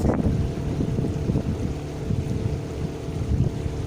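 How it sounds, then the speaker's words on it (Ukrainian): Steady wind rushes across the microphone on an open boat on the water, a continuous low buffeting roar with no other clear sounds. "вітерець такий легенький"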